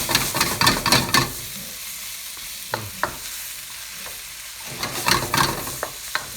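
Mixed vegetables and mushrooms stir-fry in a wok with a bright sizzling hiss, punctuated by bursts of tossing and spatula scraping at the start and end and a few single clacks in a quieter middle stretch.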